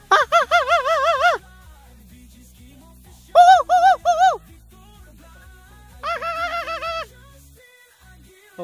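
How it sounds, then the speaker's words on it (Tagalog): Monkeys call from deep in a forest, three separate bursts of rapid, wavering hoot-like cries with quiet gaps between them, fairly clear with no talking over them. "Oh, may mga unggoy dito ayun oh."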